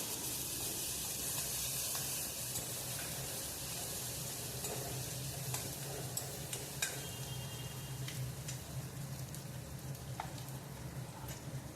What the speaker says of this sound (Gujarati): ઝીણું કાપેલું મરચું અને ટામેટું અંદર ઉમેરી દઈશું. પછી તે બધું આપણે સારી રીતે હલાવી લઈશું.